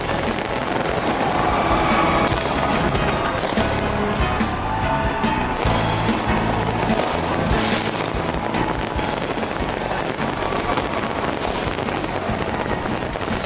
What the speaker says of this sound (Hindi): सिडनी हार्बर से आतिशबाजी की शुरुआत हो गई।